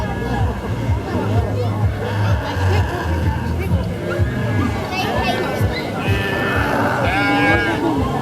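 Sheep bleat repeatedly at a county show livestock judging ring, high wavering calls layered over steady crowd babble and a voice talking.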